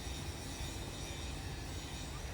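A train rumbles at a subway station in a Russian park, Khodynskoye Pole, as a continuous faint, low, broad roar heard from a distance.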